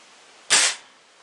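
A single sharp, loud hiss-like crack from an Umarex Airjavelin CO2-powered air gun being fired, quickly decaying to quiet background.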